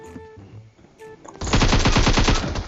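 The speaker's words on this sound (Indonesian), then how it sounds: "Dia nembak gue Wud." Gunfire in PUBG Mobile: after a few quiet in-game clicks and tones, a loud rapid automatic burst of shots rattles on steadily for over a second, close and dominant.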